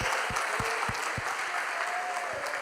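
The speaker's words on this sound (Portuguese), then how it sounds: "Quem pode aplaudir o Senhor Jesus, a glória dele, quem pode?" A church congregation applauds with a steady wash of clapping hands, moderately loud and close, while a few sharper rhythmic beats, like a drum or stomps, punctuate the sound.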